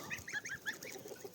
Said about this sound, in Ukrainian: поки пасу гуси